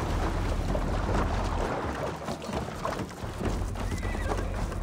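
A horse whinnies amid clopping hooves and dense, noisy game ambience, loud and continuous throughout, in Assassin's Creed Valhalla.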